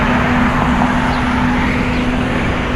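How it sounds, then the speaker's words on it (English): Big loud truck passing in roadway traffic, a dense continuous rumble with a steady droning tone that stays loud and close throughout with no talking. "Why is this big loud truck driving in the right lane?"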